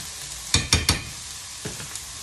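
Onion, shrimp, mushrooms and carrot sautéing in a pan, a steady close sizzle broken by three quick scraping stirs in a row, then a softer fourth stir, with no voices.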